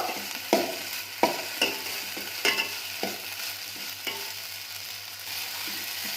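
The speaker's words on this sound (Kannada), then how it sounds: "ಇವಾಗ ಟೊಮೊಟೊ ಹಾಕ್ಕೊಂಡು ಚೆನ್ನಾಗಿ ಹುರ್ಕೋಬೇಕು" Chopped tomatoes frying and being stirred in a pan, a steady soft sizzle broken by regular scraping strokes of a spoon, close and moderately loud.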